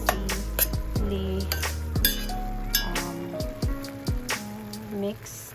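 A spoon clinks and scrapes against a pan while mixing sirloin beef bulgogi, with irregular bright metallic taps spread throughout over a steady background of tonal sound.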